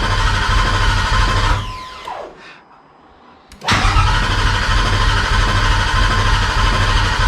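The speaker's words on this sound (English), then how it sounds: "We got ourselves a motor that's turning over." Engine of a Cobra Daytona replica car turning over, a loud steady cranking drone that briefly cuts out with a falling whine, then resumes just as loud and continuous.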